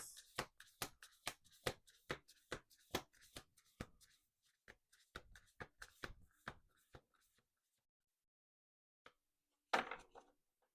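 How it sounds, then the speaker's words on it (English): Rapid crisp riffling of a deck of cards, repeated snaps that thin out and stop, then one more brief burst after a pause. "Two more shuffles."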